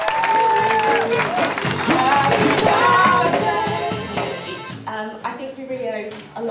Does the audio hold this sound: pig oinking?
no